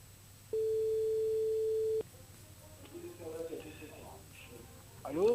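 A telephone signal on a call placed live during a Creole radio and TV broadcast: one steady electronic tone lasts about a second and a half, then stops, followed by quiet studio murmurs and a faint voice.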